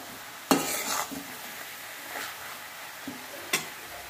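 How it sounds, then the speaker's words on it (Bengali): A new metal spatula stirs a vegetable curry with peas in a wok, sticking as it goes. It makes a few distinct scraping strokes over a soft background sizzle, close and without voices. "এই নতুন খুন্তির জন্য আমি ভালো করে নাড়াতে পারছি না, আটকে যাচ্ছে কড়াইতে"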